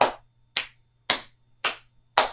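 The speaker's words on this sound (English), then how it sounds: "Clap the hands." Five single, evenly spaced hand claps about half a second apart, close and crisp, in a quiet room during a back relief yoga class, with a faint low hum in between.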